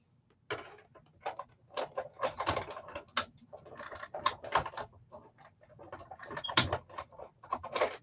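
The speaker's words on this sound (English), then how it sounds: "And I'm going to take it to the die cut machine." A die cut machine crank-rolling card stock through for a Stampin' Up! card, giving a dense run of close mechanical clicks and ratcheting ticks that pause briefly midway.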